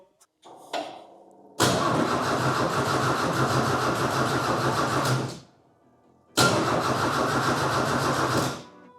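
An engine cranks over steadily for several seconds without catching, stops, then cranks again in a second long burst, loud and close.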